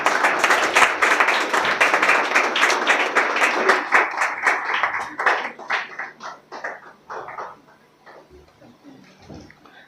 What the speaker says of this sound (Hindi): तालियां ज़ोर से बजना चाहिए।